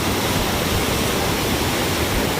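The Kali Khola river rushes in a steady, dense roar of flowing water that fills the whole moment without letup.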